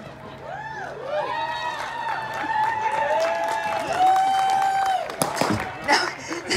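A festival crowd at the Scarborough Renaissance Festival cheers, whoops and applauds after a performer's plate-of-glassware stunt, a loud, sustained burst of many hands and rising voices that swells toward the end.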